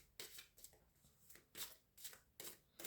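A deck of oracle cards is shuffled with repeated crisp riffling bursts in an uneven rhythm, close and fairly quiet, with no talking.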